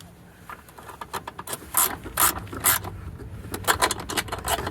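A ratchet wrench tightens a car battery terminal bolt during a battery swap, giving rapid bursts of close, sharp clicking in uneven runs.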